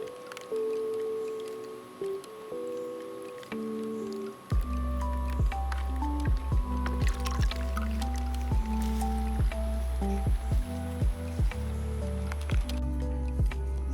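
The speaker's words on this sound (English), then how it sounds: "So it's been running for about 40 minutes. Just a little pump that's inside of there." A small solar-powered pump circulates water in a bucket as part of a cheap DIY solar water heater, giving a steady low hum with close trickling and dripping water throughout.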